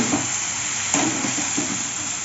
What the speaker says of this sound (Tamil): நான் வந்து வதக்காமல் அப்படியே போட்டு ஸ்ட்ரைட்டாக போட்டு வதக்குறேன்.